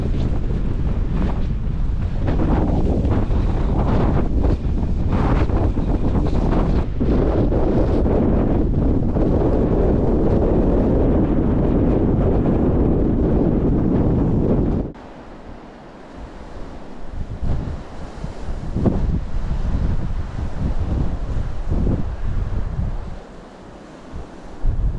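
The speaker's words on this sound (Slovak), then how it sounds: "Nie je ten vietor až taký strašný." Strong wind gusting across a hilltop viewpoint in the Little Carpathians, buffeting the microphone with loud, continuous rumbling roar for about fifteen seconds, then easing into quieter, uneven gusts with intermittent buffets.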